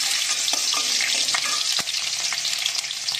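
Slit green chillies fry in a hot pan beside fenugreek seeds, giving a loud, dense sizzle with scraping stir strokes and brief clacks of a utensil throughout, no voices.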